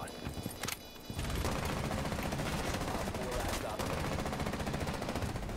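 Intense, continuous video game gunfire with dense overlapping shots and bursts, loud and sustained after a brief quieter opening, with faint voices mixed in.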